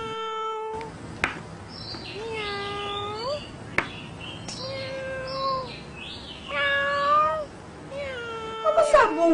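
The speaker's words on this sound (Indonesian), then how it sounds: "Buruk sangat suara kucing tu." A cat meows repeatedly in a domestic setting, a series of drawn-out, wavering cries close by, rising toward a harsher, louder burst at the end, with faint sharp knocks in the background.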